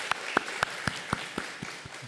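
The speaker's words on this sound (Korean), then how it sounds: "우리 영광과 감사의 박수로 같이 한번 나아가겠습니다." A church congregation claps after the choir's hymn, a run of evenly spaced claps in a steady rhythm that fades toward the end.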